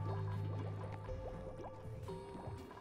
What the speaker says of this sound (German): dann lassen wir erstmal hier so das Wasser ab